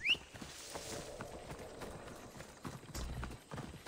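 Horse hooves clip-clop at a steady walking pace in the video game Assassin's Creed Odyssey, a rhythmic series of close, moderately loud knocks over a faint ambient background.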